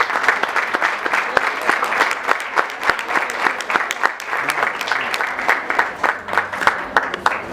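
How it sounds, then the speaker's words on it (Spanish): Warm audience applause at a literacy and education congress, many hands clapping in a loud, close, continuous burst with sharp individual claps standing out throughout. "Un fuerte aplauso para ella."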